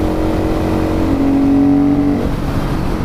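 KTM 500 EXC supermoto engine revving hard while being ridden, a loud, close single-cylinder roar that climbs in pitch in fourth gear, then drops back as the revs fall, mixed with wind noise.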